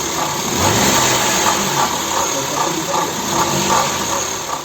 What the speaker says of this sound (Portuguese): o motor do seu carro faz todo esse barulhão